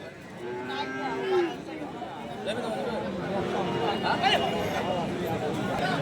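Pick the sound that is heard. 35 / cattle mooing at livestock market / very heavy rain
cattle mooing at livestock market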